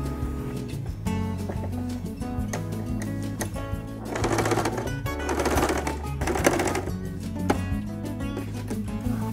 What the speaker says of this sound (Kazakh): Сол жермен қайтарып тағы да бір рет тігіп шығамыз.